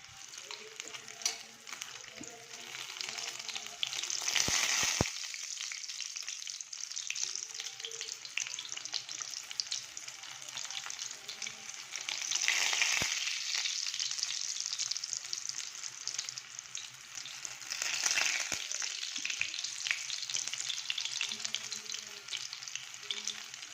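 Prawns fry in a pan with a continuous, close hiss of hot oil that swells louder in a few long surges as more go in or are turned; no talking.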